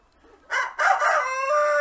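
Young Silver Wyandotte chickens on a poultry farm give a close, loud crow, a rough rising call that breaks briefly and then stretches into a long held note, with faint clucking before it.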